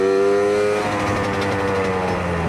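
A stock Suzuki Satria Hiu two-stroke motorcycle pulls hard, its buzzy engine note climbing in pitch over a couple of seconds, loud and close with no talk.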